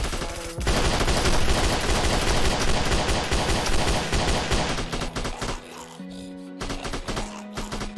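Sustained rapid automatic gunfire from a weapon in World War Z Mobile rattles on loud and continuous, then breaks into shorter choppy bursts near the end.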